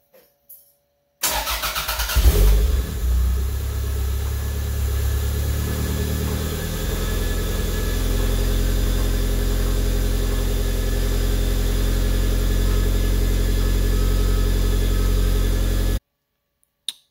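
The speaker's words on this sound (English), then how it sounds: "the car starts and idles decently well." A car engine that has been out of a vehicle for a long time cranks briefly, catches and starts, then settles into a loud, steady idle that holds for over ten seconds before cutting off abruptly.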